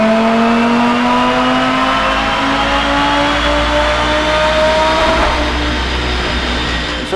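An Audi RS3 running on E85 fuel during a dyno pull, its engine note climbing steadily in pitch as it revs hard and loud for several seconds, alone without talk.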